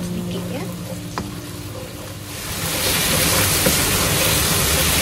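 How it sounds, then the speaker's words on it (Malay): Spice paste for kuah lodeh sautés in oil, its sizzle swelling abruptly from a quieter background into a loud, dense, continuous frying hiss that fills the second half. "Kita tumis bahan-bahan ni sehingga naik bau dan airnya sedikit kering."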